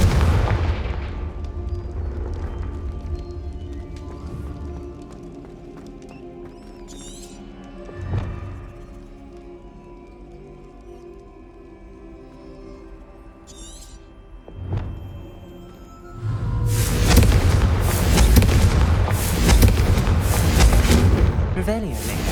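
Confringo fire spells in Hogwarts Legacy set off a couple of booming blasts, then a long, loud roaring burst near the end. Quieter rumbling fills the gaps, and a voice speaks during the clip.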